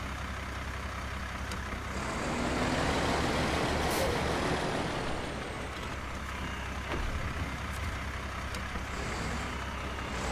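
A Terrapro truck driving in a video game, its engine a steady, loud, continuous drone that swells slightly in the middle, with a brief hiss like air brakes.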